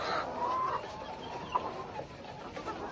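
Backyard chickens give a few soft, faint clucks and low calls in an outdoor setting, against light background noise.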